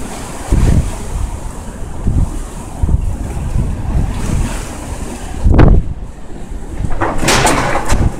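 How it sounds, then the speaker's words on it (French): Violent blizzard wind with thickening snow buffets the microphone in Amiens, France, in loud, heavy gusts, roaring continuously with sharp surges and no talking. "La neige, elle devient de plus en plus intense, le vent accélère."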